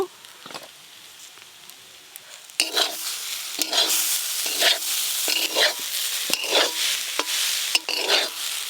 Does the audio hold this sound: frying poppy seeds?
yes